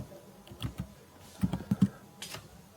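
Keystrokes on a computer keyboard while typing into a Firefox browser on a Kali Linux machine, a few scattered clicks then a quick cluster of four or five taps, faint and close with no talk.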